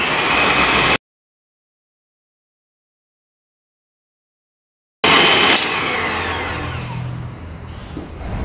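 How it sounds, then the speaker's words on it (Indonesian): An electric mixer kneads donut dough with a loud, steady motor whine that cuts out into silence for several seconds, then resumes and gradually shifts in tone as it works. "saya akan menggunakan mixer ya, teman-teman bisa menguleninya menggunakan tangan."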